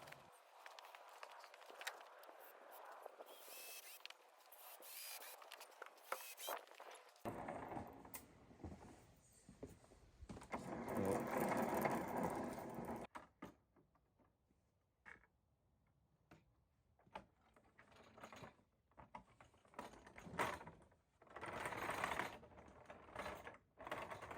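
Screws being driven to fit all four wheels onto a wooden mobile workbench, played back heavily sped up, make busy, chattering bursts of mechanical noise that rise and fall for about 24 seconds with no one talking.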